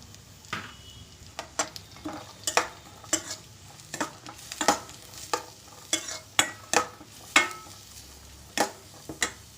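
Chopped carrots dropped into a hot pan with curry leaves for vegetable upma, stirred with a spatula in repeated scraping strokes over a steady soft sizzle, close and clear with no talking.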